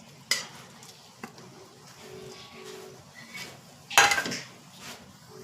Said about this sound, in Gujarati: આપણે આ લીલા ટોપરાનું ચૂરણ એકદમ સરસ રીતે આમ મિક્સ કરતું જવાનું છે